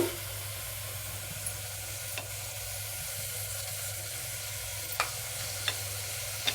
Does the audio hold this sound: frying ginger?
yes